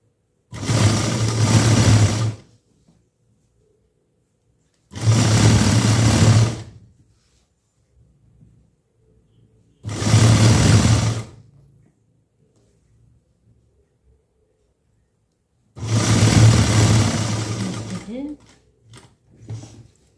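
A sewing machine stitches a blouse lining in four loud, close bursts of rapid whirring of about two seconds each, separated by quiet pauses with faint handling noises.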